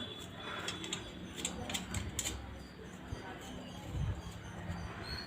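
A screw is tightened on the frame of an aari embroidery stand, making a few irregular mechanical clicks and soft scraping ticks close by, with a low background hum throughout.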